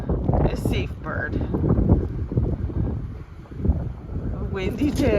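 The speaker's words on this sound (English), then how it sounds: "It's windy in Vegas." Gusty wind buffets the microphone outdoors on a windy day in Las Vegas, a steady low rumble throughout, with a person talking over it.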